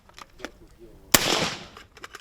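A single sharp gunshot from an automatic rifle cracks loudly nearby at a civilian shooting training centre in Zaporizhzhia, followed by a brief echoing tail, with faint talking before and after.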